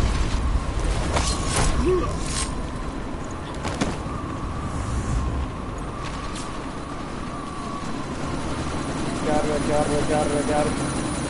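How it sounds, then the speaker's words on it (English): A helicopter drones steadily throughout a combat scene in Deus Ex: Mankind Divided, a continuous rotor rumble mixed with gunfire-like bursts and game noise, while a voice speaks over it. "But you need to disable that chopper."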